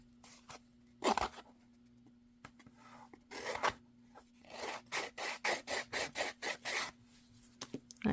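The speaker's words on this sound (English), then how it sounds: "I didn't do a very good job of trimming my stickers, so let me go ahead and file a little bit here" The edge of a sticker on handmade packaging is filed by hand: a few scattered scrapes, then a quick run of about ten even, rhythmic rasping strokes, close but quiet.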